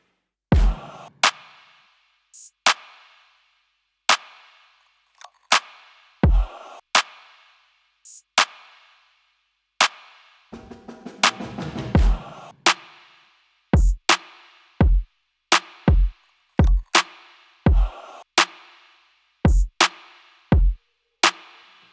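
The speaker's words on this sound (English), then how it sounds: "We got the drums on the break, and they sound like this." A punchy drum break loop with sharp, evenly spaced hits in a steady groove, a busier fill around the middle, played loud with no voices.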